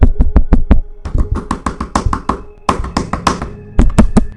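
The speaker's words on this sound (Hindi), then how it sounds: "It was the knocking sound." Loud, sharp knocks in quick irregular bursts rap close by on a door at night in a hostel, several clusters of hard taps with brief pauses between them.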